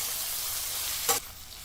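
Brinjal with turmeric and salt sautés in a thick-bottomed wide kadhai, a soft steady sizzle with one brief louder hiss as it is stirred.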